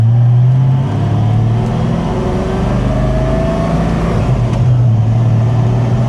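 Supercharged Ford Mustang engine accelerating through gear changes, a loud, close mid-pitched drone that rises, drops at the shift and climbs again, heard from inside the car with no talking.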